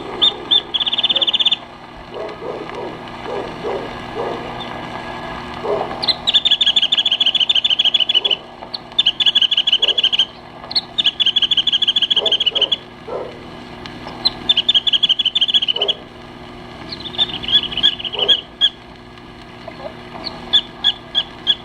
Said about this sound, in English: The wren tit.